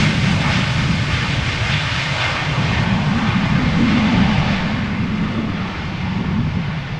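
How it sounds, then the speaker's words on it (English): A Vueling airliner lands at Amsterdam Schiphol Airport, its engines producing a loud, continuous broadband roar that swells slightly before easing off, with no talk. "Over here, Vueling just touched down."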